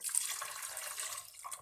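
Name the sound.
beef stock (yakhni) being poured into pot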